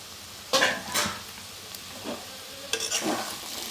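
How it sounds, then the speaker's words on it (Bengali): Papaya ghonto being fried and stirred in a pan, with a few short scraping stirs and a soft sizzle underneath, close and fairly quiet. "তো আমি এখন এটাকে ভালো করে এর সঙ্গে ভেজে নিচ্ছি।"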